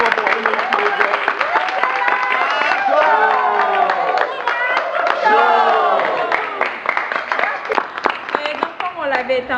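A live show audience claps: busy, overlapping hand claps and crowd noise run throughout, partly under voices and musical or shouted tones.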